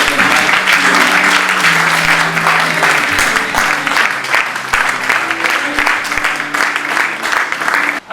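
A church congregation applauds loudly and steadily to welcome an apostle to the pulpit, dense clapping running the whole stretch with music or voices faintly underneath.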